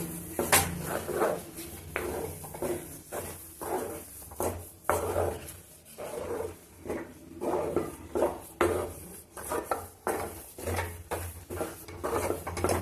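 Grated dry coconut being stirred and mixed in a kadai, with repeated scraping and clinking of a spoon against the metal pan in an irregular rhythm, close and moderately loud, with no talk.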